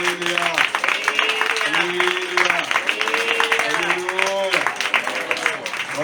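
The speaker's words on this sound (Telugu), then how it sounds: "ఒకసారి చప్పట్లు కొట్టండి." A church congregation clapping during a Sunday worship service, with rapid, irregular claps running under voices that carry on throughout.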